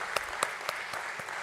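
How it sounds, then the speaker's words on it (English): Audience applause at a stock exchange listing ceremony for Muthoot Microfin at BSE, a steady crowd clapping with a few sharper claps standing out, moderately loud and without talk. "The claps should keep going on."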